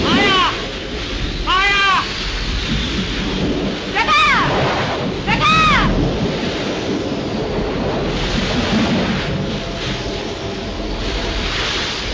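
A thunderstorm in a 1937 Hindi film scene: heavy rain hisses steadily throughout under rumbling thunder, broken by a few brief rising-and-falling tonal cries or howls early on.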